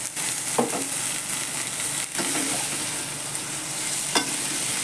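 Green peas and potatoes stirred and frying in a pan, a steady sizzle with a few sharp scrapes of the spoon at intervals; no talking.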